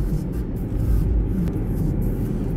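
A car being driven around Christchurch, New Zealand, seen from inside the cabin: a steady, fairly loud low engine and road rumble that holds evenly throughout, with no voices.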